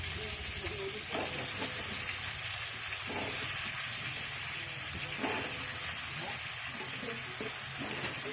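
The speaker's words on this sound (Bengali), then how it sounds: "কুমড়োগুলো একবারে ভেজে নেবো" Pumpkin pieces frying in a pan with chopped onion and whole spices give a steady, close sizzling hiss that carries on unbroken, with faint clicks of stirring now and then.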